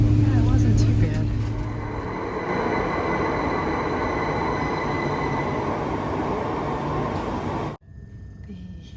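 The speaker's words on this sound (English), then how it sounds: "The Heathrow Express is about a 15-minute ride into London, and it takes you to Paddington Station." Interior of a Heathrow Express train heading into London, with a steady rumbling roar of wheels on rails and motor whine, loud and continuous before cutting off sharply near the end; people talk over it.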